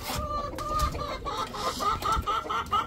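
Rescued chickens cluck repeatedly and irregularly, close by, with a rooster and hens overlapping in short bursts.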